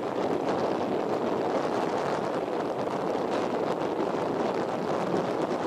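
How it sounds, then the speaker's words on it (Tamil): Strong sea wind on a beach near a seaside temple, a steady, loud, unbroken roar and buffeting across the microphone throughout, with no voices. "கடற்காத்தே ஒரு தனி வேகம்தான்"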